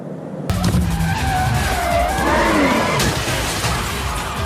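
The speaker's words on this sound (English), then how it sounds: "I crashed my car." A drift car's tires screech and skid continuously over a roaring engine, loud and close, with no talking.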